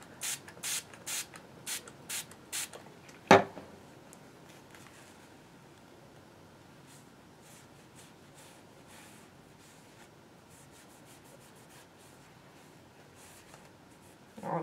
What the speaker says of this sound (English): So you see we're just spraying.